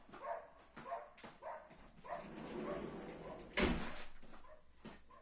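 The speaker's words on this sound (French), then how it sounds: "j'ai le chien qui se faisait entendre" Indoors, a dog gives a series of short yips and whimpers in a quick uneven rhythm, followed by a louder thump like a door shutting, all at a moderate distance with no talking.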